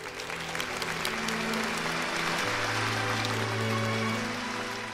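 Anime school debate scene ends in broad applause from students, a continuous wash of clapping under sustained music tones, fairly faint and steady throughout.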